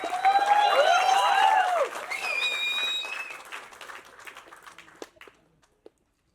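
A crowd at a youth success meet applauds as writer, lyricist, director and actor Ken Karunas is welcomed to the stage. Loud overlapping bird-like whistles and cheers come first, then the clapping fades to a few scattered claps.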